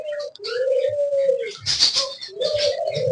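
Two pet parrots call up close with low cooing notes and a short burst of chirping in the middle, steady and loud.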